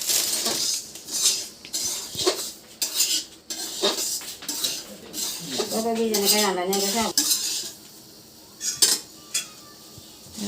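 Sugar and butter melting in a side pan while suji laddoo is made, stirred with a utensil that clinks and scrapes against the metal in repeated close strokes, with a brief tonal sound midway and quieter stretches near the end.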